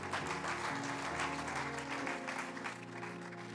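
A church congregation applauds during a French-language sermon, with steady, moderately faint clapping from many hands that eases slightly at the end.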